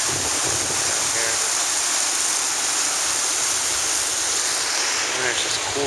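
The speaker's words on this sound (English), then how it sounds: "Something pretty cool, a little waterfall thing down here." A small waterfall beside the ruins of a flour mill plant on the Mississippi in Minneapolis pours in a constant broadband rush, steady and fairly close, with no pauses.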